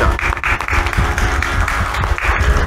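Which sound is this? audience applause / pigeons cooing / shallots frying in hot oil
audience applause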